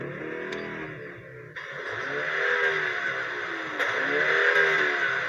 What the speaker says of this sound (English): I can hear some kind of like distant popping and banging sounds, but I think it's fake and it's being produced by the speakers inside the car